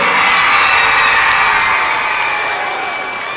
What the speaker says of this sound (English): another round of applause for Carter right there.